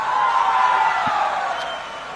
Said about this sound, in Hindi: क्या ताली बजा रहे हो डुमरी वालों?